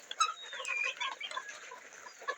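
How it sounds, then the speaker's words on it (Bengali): Chickens, some of them sick, cluck and make thin, warbling calls close by, a busy overlapping chatter of soft clucks lasting a couple of seconds. "এখানে আমার কিছু মুরগি দেখছেন, এখানে কিছু মুরগি রয়েছে অসুস্থ"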